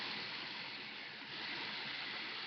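Tap water runs steadily in a bathroom sink during a nighttime makeup-removal routine, a constant soft rushing hiss heard alone, without talk.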